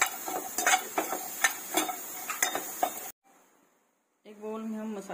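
Onion, green chili and garlic paste hit a hot pan with a bright sizzle and spoon clatter for about three seconds, then a brief hush before a voice starts talking.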